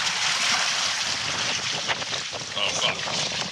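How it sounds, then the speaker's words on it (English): Strong wind roars steadily over a sailing canoe on Loch Lomond on a stormy day, a constant loud buffeting rush across the microphone with water noise underneath and no break. "that's the wind about to come behind us now"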